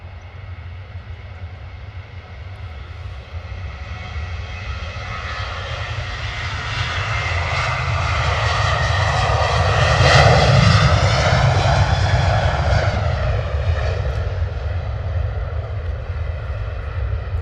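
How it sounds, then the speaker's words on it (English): A Ryanair airliner bound for Dublin takes off at Stansted Airport with a loud, rising engine roar that swells to a peak and then passes. The tone sweeps as the jet goes by, with no talk over it. "Here we go, Ryanair out the door, off to Dublin. Nice and loud"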